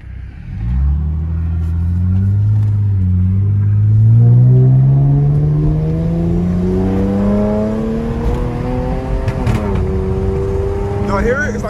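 Straight-piped Cadillac exhaust roaring loudly nearby, a deep rising rev that climbs steadily, then shifts and settles into a lower drone, with no talking.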